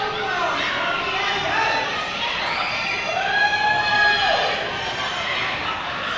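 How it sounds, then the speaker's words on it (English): A home crowd at a high school girls' volleyball match, Stony Point Tigers hosting Round Rock, keeps up a sustained roar of cheering and shouting in the gym, with voices rising and falling over a dense background. "the locals are trying to get the Stony Point crowd rallying here"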